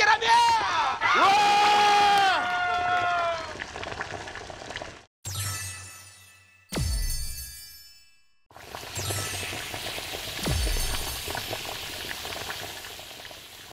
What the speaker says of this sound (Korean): 함성 폭발